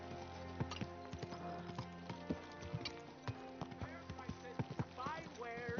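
Horse hooves clip-clop at a steady walking rhythm in the medieval world of Kingdom Come: Deliverance II, close and moderately loud, mixed with music, other game sounds and someone talking over them.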